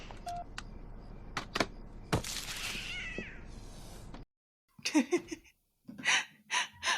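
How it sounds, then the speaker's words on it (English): A cat yowls in a romantic comedy film scene, drawn-out wavering meows and short cries against a quiet background, with some faint breathing and clicks around it. "I love that they had the yowling cat."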